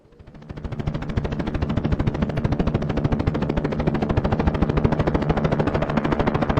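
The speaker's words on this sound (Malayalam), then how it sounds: "ഹെലികോപ്റ്റർ ക്രാഷ് ലാൻഡിങ് ആയല്ലോ." In a Jurassic-themed horror video game, a helicopter comes in to crash-land. Its rotor beats in a fast, even thumping that swells over the first second, then holds loud and steady.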